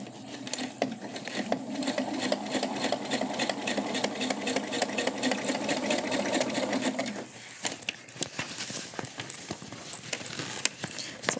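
A sewing machine topstitching a cube bag, its needle hammering in a fast steady rhythm close by for about seven seconds, then stopping and giving way to scattered small clicks and handling noises.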